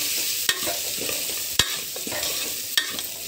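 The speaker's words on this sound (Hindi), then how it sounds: "इसमें मैं एक छोटे चम्मच तेल और डाल देती हूँ, इसको अच्छे से भूनने देते हैं।" Toor dal roasting in a little oil in a pan, a steady close sizzle broken by three sharp spoon scrapes and knocks against the pan.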